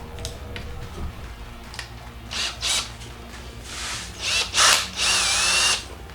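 Power drill fitted with a magnetic bit holder, set up for unscrewing during a home 4x4 project, whirring in several short bursts that grow louder and longer toward the end, the final run the longest.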